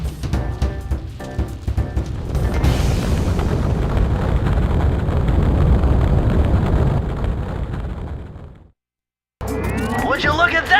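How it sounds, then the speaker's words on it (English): A fireworks rocket bursts into a long, loud rumbling explosion in the Sly Cooper video game, a dense roar that swells for several seconds, cuts to brief silence, then gives way to crackling bursts. "Would you look at that? A fireworks show!"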